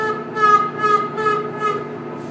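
A harmonica played with draw notes bent using the space in the mouth, a close, sustained reedy tone that swells and pulses in several repeated waves.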